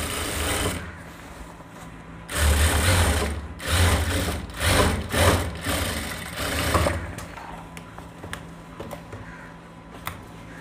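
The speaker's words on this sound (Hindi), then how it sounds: "अब इस सिलाई को भी कर लेंगे" A sewing machine stitches a seam on a pair of trousers in several short bursts of whirring, motor-driven needle action with brief pauses between runs, close and fairly loud, then quieter handling sounds toward the end.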